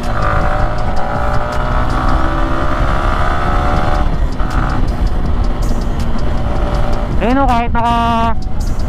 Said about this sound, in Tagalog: So testing tayo ng wind noise dito, mga chong.